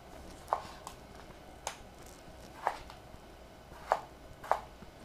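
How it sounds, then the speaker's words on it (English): Fresh tomatoes are cut into small pieces on a board, with five or six crisp, separate knife chops at an uneven pace, close and fairly quiet, with no voices. "I will cut them just in small pieces."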